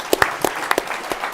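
A handful of individual claps ring out in a meeting hall, sparse and uneven, a few distinct hand strikes over about a second.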